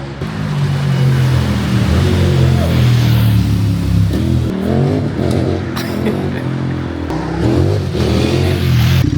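A KTM 1290 Super Adventure S motorcycle engine revs loud and close on a ride with a cold rear tyre, its rising and falling roar sustained throughout with a few sharp throttle surges.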